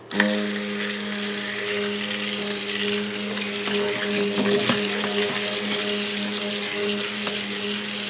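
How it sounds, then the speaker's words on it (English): A stick blender whirs steadily in warm soap batter, a continuous motor hum running for several seconds with no voices. "I'll give it a quick whiz with my stick blender"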